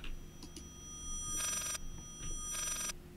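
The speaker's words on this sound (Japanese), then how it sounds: "また電話が鳴ってますよ。" A telephone rings in the horror video game Layers of Fear, giving two bright electronic ringing bursts with short chirps before them, clear over a quiet low ambient hum.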